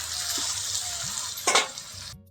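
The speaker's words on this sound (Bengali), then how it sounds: "এখন এই যে মাংসটা দেখছো, এটাকে ঢেলে দিয়ে আরো কষাবো।" Meat tipped into a pan of spice masala that has been cooking down with water, sizzling and frying steadily, with a louder burst of sizzle partway through as it hits the hot pan, close by and with no talk.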